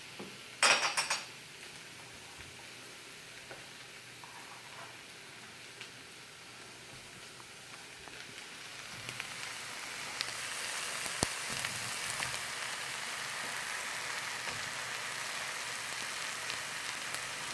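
Handfuls of chopped vegetables dropped into a hot wok for an Asian eggplant stir fry, with a clatter at the start and a steady crackling sizzle that swells after a few seconds.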